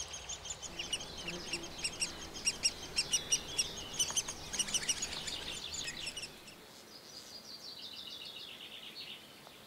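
Several birds call and chirp in quick bursts in a marsh in the Peel, Netherlands, with a duck-like quacking among them, over a steady outdoor hiss before fading to quieter calls.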